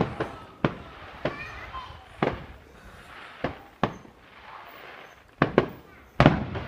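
Sharp bangs of fireworks burst at irregular intervals, some sounding distant and others closer and louder, with faint background chatter between blasts.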